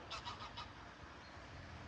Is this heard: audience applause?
no